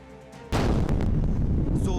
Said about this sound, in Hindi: जोरदार धमाका और उसके बाद आसमान में उठता काले धुएं का गुबार